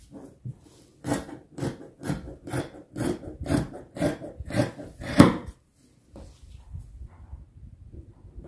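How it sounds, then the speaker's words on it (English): Scissors snip through folded fabric in a run of about nine rhythmic close cuts, a short pause, then quieter handling. "So I folded my fabric into two and I'm going to cut this."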